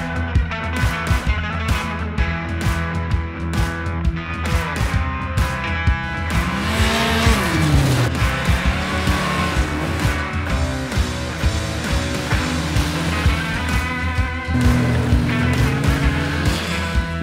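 A 2020 Yamaha SRViper L-TX SE snowmobile engine is loud and close, revving up and down through several swooping pulls with rapid staccato bursts at the start.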